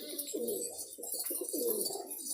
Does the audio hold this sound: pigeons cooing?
yes